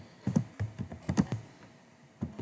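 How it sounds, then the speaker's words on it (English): Answers are typed on a computer keyboard in quick, uneven bursts of close key taps at moderate volume, with no talking. "you're going to go through and type in your answers"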